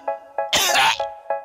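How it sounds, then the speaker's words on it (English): A person coughing once, a short, harsh and close burst in the middle, set between faint, rhythmic tonal sounds before and after. "I see a coughing guy."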